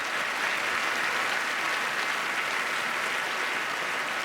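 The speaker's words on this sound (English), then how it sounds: "Let's have a big round of applause for our jury." A large gala audience at the 2017 Scotiabank Giller Prize ceremony gives the jury a big round of applause, a loud, even wash of clapping that holds steady for several seconds.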